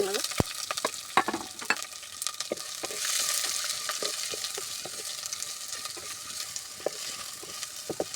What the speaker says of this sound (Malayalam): ജസ്റ്റ് ഒന്ന് പച്ചമുളക് മാറുന്ന വരെ നമ്മൾ ഇത് മൂപ്പിച്ചെടുക്കുക.